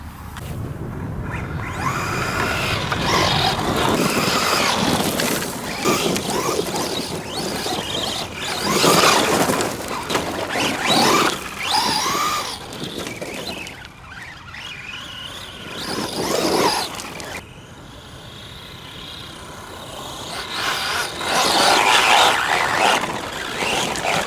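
Kyosho Madvan radio-controlled car driving hard and pulling a wheelie, its small electric motor whining and surging in loud bursts with tyres scrabbling, rising and falling as it speeds about.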